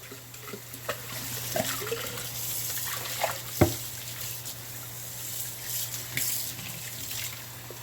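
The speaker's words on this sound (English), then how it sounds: "with warm running water." Warm water runs from a tap over the outside of an RO water filtration system filter while it is being cleaned; a faint, steady splashing flow with a few small clicks and knocks, and no talk.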